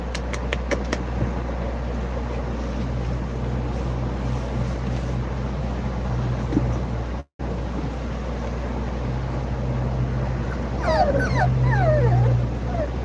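Young poodle-cross puppies whimper with thin, high whines near the end, over a steady low indoor hum that has a brief dropout midway.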